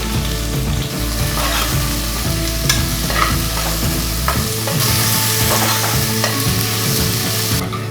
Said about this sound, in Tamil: வெங்காயம் ப்ரௌன் கலராக வர்ற வரைக்கும் நல்லா வதக்கி விட்டுக்கோங்க.